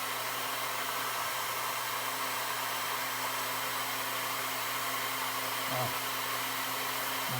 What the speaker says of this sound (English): We're going to crank the heat all the way up. And we're going to set it underneath here.